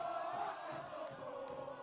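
A football crowd at a varsity game cheers in a sustained, distant roar, with faint stomping thumps scattered beneath the crowd noise.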